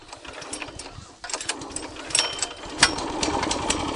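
A tiller's petrol engine is pull-started with the choke closed and throttle at half, heard as close, loud rasping pulls and mechanical rattling that grow busier toward the end.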